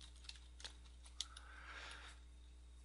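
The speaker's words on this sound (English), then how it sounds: "type in the site address" Soft, sparse keystrokes tap on a computer keyboard, a few isolated clicks close by against a faint steady hum.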